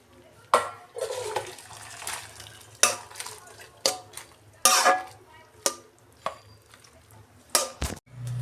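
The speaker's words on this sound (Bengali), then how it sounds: "বাঁধাকপিটা ভাবানো হয়ে গেছে, আমি জলটা ফেলে দিচ্ছি।" Water is drained from a pot of boiled cabbage in a home kitchen, with uneven splashing gushes and sharp clanks of the pot, close and fairly loud with quieter pauses between bursts.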